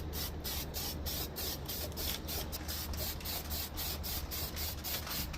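Weld-through primer sprays from a can onto a Hasport motor mount on a Honda CRX K-swap, a steady close hiss with a faint pulsing rhythm and no talk.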